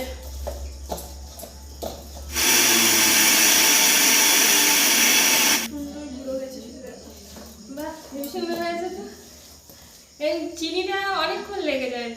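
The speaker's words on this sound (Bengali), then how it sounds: "এবার আমি মিক্সচার মেশিনে এটা গুঁড়ো করে নেবো" An electric mixer grinder whirs loudly for about three seconds while grinding palm-fruit ingredients into powder in a home kitchen, starting and stopping abruptly, with people chatting before and after.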